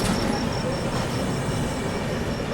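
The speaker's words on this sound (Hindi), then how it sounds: "इस और भी किसी गाड़ी, कोई गाड़ी आई है इस और भी जो है," Sabarmati Express (Darbhanga–Ahmedabad) rolling into an Indian railway station, a steady loud rumble of wheels and carriages with a faint high squeal, continuous throughout with no talk.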